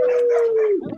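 Someone on a voice call imitates a dog with one drawn-out, howl-like cry that holds a steady pitch, then drops and breaks off after about a second.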